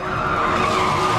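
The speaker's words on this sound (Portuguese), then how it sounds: "Alta velocidade, cantar pneu, subir calçada, frenagem, tudo." Car tires squeal loudly and steadily during high-speed police car stunt driving for a film production in São Paulo, a continuous close skid with engine noise underneath.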